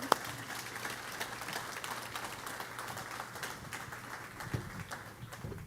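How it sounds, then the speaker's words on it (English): Sunday service congregation giving a round of applause, dense steady clapping from many people in a hall, with a few sharper individual claps standing out. "So let's give Christine a round of applause."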